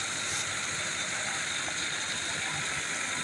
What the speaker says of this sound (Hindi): ट्रैक्टर के ज़रिए चलती है ये मशीन।